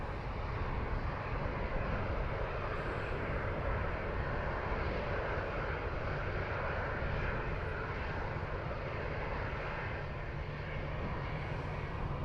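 An SAS airliner departing Dublin Airport for Oslo gives off a steady, distant jet roar, a constant broadband rumble that stays even in level throughout.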